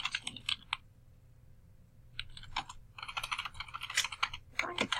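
Typing on a computer keyboard, quick irregular bursts of clicking keystrokes close by, with a brief pause around the second second before the typing resumes in steady runs.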